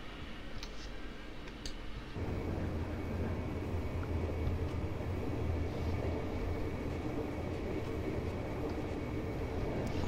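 A BR 141 electric locomotive hauling a Karlsruher cab car and Silberlinge coaches in Train Simulator 2018 gives a steady, fairly loud rolling rumble that swells in after about two seconds and continues unbroken, with no talk.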